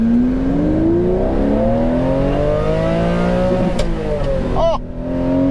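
Ferrari flat-12 engine in a Testarossa or 512TR accelerating hard in first gear, a loud rising wail heard from inside the car that climbs steadily, then a brief break at the shift, with voices faintly underneath.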